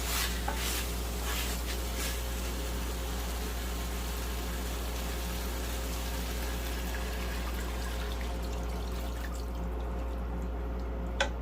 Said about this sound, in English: We still have to add like 3 cups of water on it.